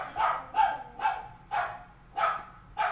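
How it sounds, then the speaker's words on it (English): A dog barks six times at a steady, spaced-out rhythm, close and fairly loud, with a quiet room behind each bark. "he's gonna bark"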